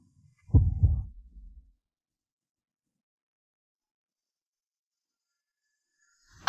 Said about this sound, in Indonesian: Hatiku kenapa berdebar begitu kencang?